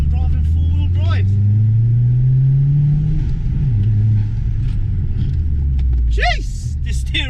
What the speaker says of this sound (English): First time driving four-wheel drive.